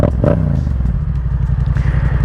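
A motorcycle engine, close and loud, gives a low throbbing note that builds slightly as the throttle is rolled on during a beginner riding lesson, with a brief clatter at the start and no talking.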